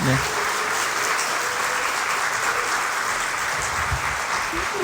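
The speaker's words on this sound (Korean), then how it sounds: "박수가 따뜻한 게 아니라 뜨겁네요." A church congregation at a Sunday worship service applauds warmly to welcome the pastor to the pulpit, a dense, steady roar of many hands clapping that holds at full strength throughout.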